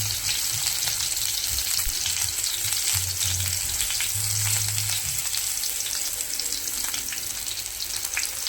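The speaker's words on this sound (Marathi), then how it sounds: "2 पळ्या आपण तेल टाकलेले। कांदा लाल होऊ देऊया।" Chopped onion fries in a pool of oil while greens are being cooked, giving a steady, close, even sizzle with faint low-pitched clatter underneath and no voices.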